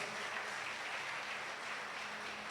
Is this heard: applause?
yes